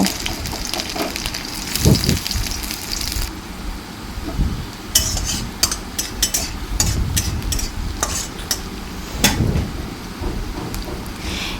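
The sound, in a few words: chopped onions frying in oil in a wok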